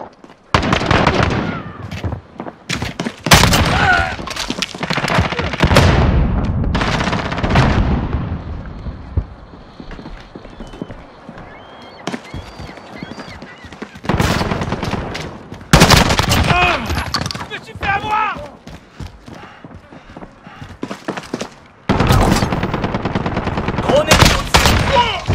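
Dense bursts of automatic gunfire and loud explosions in Call of Duty: Modern Warfare, near and heavy, coming in repeated clusters with brief lulls and some game voice chatter mixed in.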